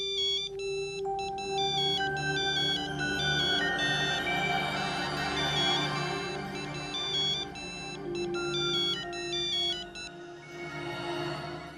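Electronic phone ringtone playing a bright, repeating melodic pattern, fairly loud and continuous, with no voices over it.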